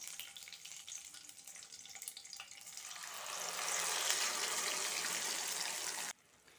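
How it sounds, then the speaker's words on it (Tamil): Water pours into a pan of egg kurma masala with ground paste, cloves, cardamom and curry leaves, first a quiet trickle and then a louder, steady rushing hiss that runs for several seconds before cutting off abruptly. "நான் 1/2 டம்ளர் போல் தண்ணி சேர்த்துருக்கேன்"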